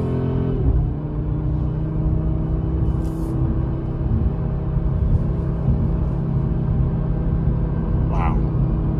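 Audi RS3 8Y, a 401 hp quattro compact sports car, driving along a road, heard from inside the cabin as a steady, loud low engine and road rumble that holds throughout with little change.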